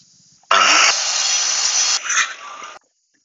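A power saw cuts through a wooden plank in one loud, close burst of about two seconds, its pitch dropping as the blade bites deeper, then stops abruptly.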